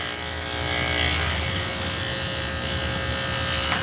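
Electric clippers trimming a Shih Tzu's coat, a steady close buzzing hum that holds throughout the short stretch with slight changes in tone as the blade moves through the fur, no talk.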